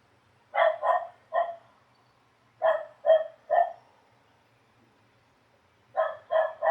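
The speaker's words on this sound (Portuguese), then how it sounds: "Tem uns cachorros aqui latindo aqui na porta da minha casa" Dogs bark at the door of a house in three quick bursts of two or three loud barks each, separated by short silences, with no talking.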